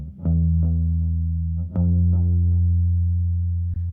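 Bass line with an eighth-note delay set to wide spread: a few sustained low notes with sharp plucked attacks, each followed by softer repeating echoes that trail off, loud and close with no voices.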